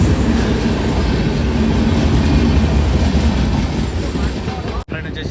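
A passenger train arrives at Moula Ali station, its WF7 locomotive and carriages producing a loud, steady rumble of wheels and rail noise that persists throughout, with a brief dropout near the end.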